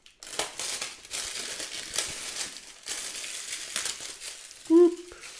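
Plastic packaging is peeled away while unboxing an S12, giving a steady stream of close crinkling and rustling, with a brief higher squeak near the end.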